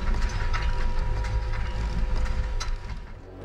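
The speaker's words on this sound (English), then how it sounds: "there's a huge gear in the center of the map powering a mill" Video game sound of a huge mechanical gear powering a mill at the center of a map, layered with an industrial fan, a dense grinding, creaking churn of wood and ratcheting mechanism.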